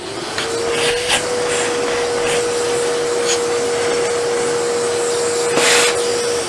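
A vacuum runs steadily close by with a sustained whine and broadband rush, sucking up excess water, with a few brief slurping surges as it pulls liquid and no talking.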